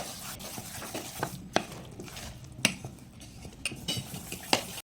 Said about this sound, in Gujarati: તો હવે આપણે તેને સારી રીતે મિક્સ કરી લઈશું